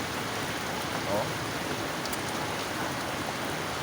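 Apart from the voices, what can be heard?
rain falling on traffic in the street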